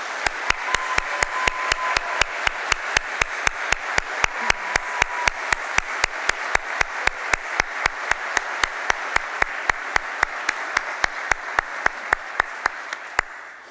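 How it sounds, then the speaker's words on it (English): An audience claps at a medical school white coat ceremony. One close, sharp clap lands at an even, steady beat over a softer, continuous bed of crowd applause that runs for over a dozen seconds and then tapers off. "round of applause"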